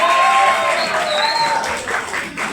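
An audience at a school civic education event claps and cheers in a loud, dense wash that holds steady across the whole stretch, with crowd voices mixed in.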